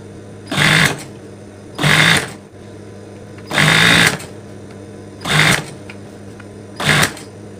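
A sewing machine stitches a mukena prayer garment in five separate short runs, each a close, buzzing whir lasting under a second with quiet gaps between.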